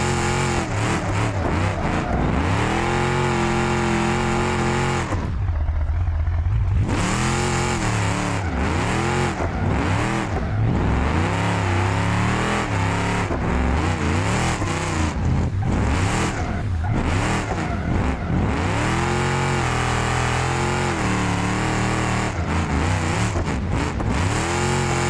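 An engine in a racing sim game revs loudly through exhaust with no muffler. The pitch rises and drops over and over, shifting gear, with one short lift-off pause, and it stays close and steady the whole time.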